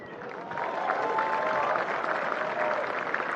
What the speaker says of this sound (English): One more round of applause for Kei Nishikori